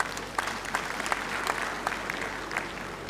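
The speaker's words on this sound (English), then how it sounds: "I think Mr. President deserves a round of applause for that." Audience applause at a university event honoring a valedictorian in Lagos, a steady wash of clapping held at moderate distance for about three seconds, with a few sharper individual claps standing out.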